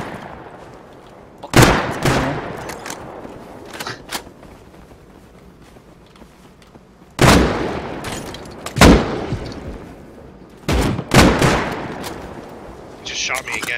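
Gunfire from the survival video game Rust comes in loud, sharp bursts. Several close, booming shots and rapid volleys are separated by quieter gaps, while a voice talks during the action.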